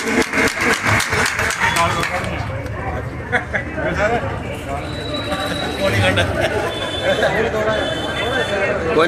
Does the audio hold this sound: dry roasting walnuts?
no